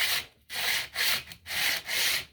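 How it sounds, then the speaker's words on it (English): Sandpaper rubbed along a wooden arrow shaft clamped in a vise, five rhythmic back-and-forth strokes with short pauses between, close and clear with no talking. "See how I've got it in the vise, and I'm just sanding that shaft."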